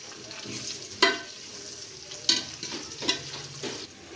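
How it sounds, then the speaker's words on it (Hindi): Chopped onion frying in oil for dhaba-style chana dal, a steady sizzle broken by a few sharp scrapes and clatters of a spoon stirring in the pan, close and moderately loud with no talking. "साथ ही हम अपना प्याज ऐड कर लेंगे और इसको भी हल्का सा गोल्डन कर लेंगे"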